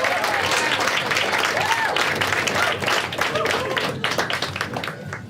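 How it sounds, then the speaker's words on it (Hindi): A stand-up comedy audience claps and applauds in a dense burst that gradually thins and fades toward the end. "एक बार खुद के लिए ताली बजा सब लोग।"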